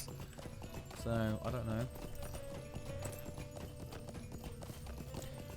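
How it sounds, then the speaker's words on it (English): A horse clip-clops along in The Lord of the Rings Online, a steady run of hoof beats under game music while a person talks over it. "we've already got the extra boost on our horse"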